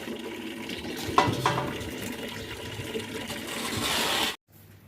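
Water drains steadily from a water tank being emptied on a rooftop, a continuous rushing, splashing flow with a couple of brief knocks, running for about four seconds before it stops abruptly.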